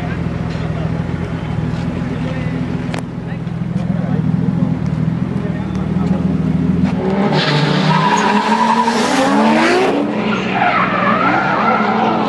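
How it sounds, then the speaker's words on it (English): A drift car skids through a turn at a Formula Drift Indonesia 2012 event, its tires squealing loudly in a long rising screech after steady engine rumble, with voices present in the background. "Itulah drifting."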